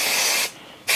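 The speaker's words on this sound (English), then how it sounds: "this is the basting spray that I use" Basting spray hisses from an aerosol can in two close bursts, a long steady spray, a brief pause, then a second spray starting, used to tack fabric for machine embroidery on a toddler sweatshirt.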